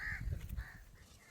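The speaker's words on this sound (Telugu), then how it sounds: "నువ్వు అరుస్తున్నావా అని కాకి అరుస్తున్నా అర్థం కావట్లేదు" A crow caws, a single harsh call that is near and clear. Kitchen room noise sits quietly in the background, and no one speaks.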